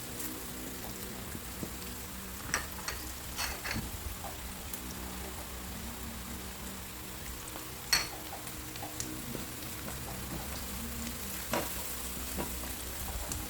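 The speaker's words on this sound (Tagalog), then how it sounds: "Igisa lang natin ng maigi yung ating sibuyas at ang ating bawang." Onion and garlic sauté in a pan with a soft, steady sizzle, broken by occasional faint stirring clinks and scrapes, fairly quiet and with no talking.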